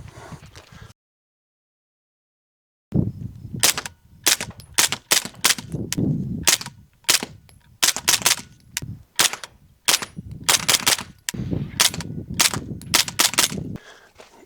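Shots fired through an Otter Creek Milkman suppressor, a long irregular string of sharp suppressed cracks in clusters and bursts, loud and close, after a brief silent gap.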